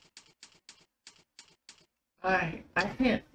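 Keys clack on a computer keyboard during a Typing.com lesson, about eight crisp, evenly spaced taps up close, then a person starts talking.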